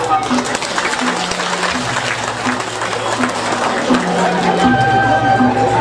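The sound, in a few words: audience applause at a drama performance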